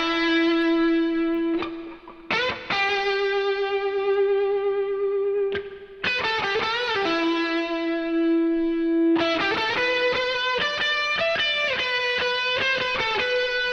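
Sustained synth or guitar tones with bright harmonics, processed through a rich plate reverb from the Slate Digital FG-224 plugin, played in several phrases with short gaps and smooth reverberant tails throughout.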